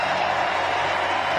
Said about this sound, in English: the crowd makes a good noise here on Friday night, as the riders are introduced to the crowd